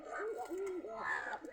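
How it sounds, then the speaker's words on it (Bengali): Pigeons coo in the morning, a short run of soft, rolling burbles repeated several times at close range, with no talk over them. "কবুতরের সকালবেলা বকম বকম শব্দ সবারই অনেক ভালো লাগে"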